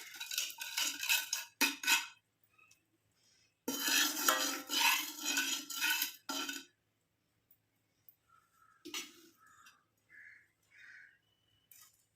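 A spoon scrapes and clinks against a bowl while homemade herbal hair dye powder is mixed, with bursts of stirring separated by pauses, close and fairly loud, and faint tonal chirps in the quieter stretch.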